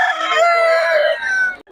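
A rooster crows loudly and close by, one long drawn-out call that trails off at the end, followed by a short sharp sound.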